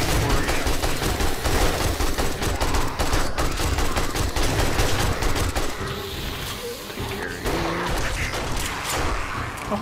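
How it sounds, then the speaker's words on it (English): Machine gun fire support in the 7 Days to Die game, a loud, dense and continuous stream of rapid gunfire with crashing impacts that barely lets up, close and heavy throughout. "Machine gun fire support."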